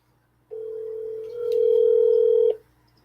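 A steady telephone dial tone holds for about two seconds, shifting pitch partway as a call is placed, then cuts off abruptly into near silence.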